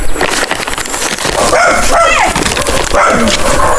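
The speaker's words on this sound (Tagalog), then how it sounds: "Nahabol na kami ng aso guys." A dog barks and yips loudly and close by outdoors near a chapel, several sharp barks mixed with whining cries, with some background noise around it.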